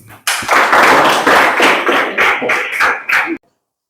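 Students clapping in a Grade 10 Indonesian-language classroom after a group presentation, a loud close burst of hand claps with uneven rhythm that stops abruptly, followed by silence.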